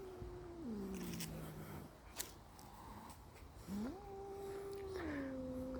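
A cat meows twice in long, drawn-out, wavering cries, close by, with a short quiet gap between them.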